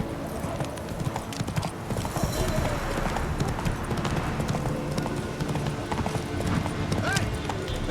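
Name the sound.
horse Roach hooves clip-clopping, from video game The Witcher 3: Wild Hunt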